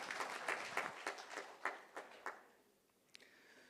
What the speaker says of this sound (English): Can I request claps for the incoming speaker?